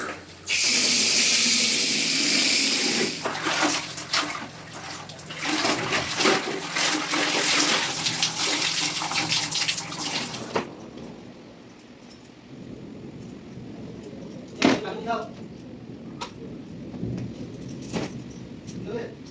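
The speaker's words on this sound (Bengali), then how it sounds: "চলো আগে জামা কাপড়টা ধুয়ে নিই" Water splashes loudly and continuously while clothes are washed by hand, then falls to quieter sloshing and occasional knocks after about ten seconds, with no talk.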